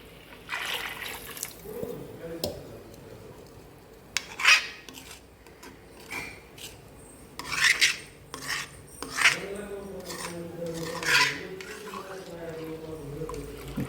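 Spoon scraping and rubbing through thick sev bhaji masala in a pan, irregular rasping strokes near and moderately loud, with someone talking over much of it.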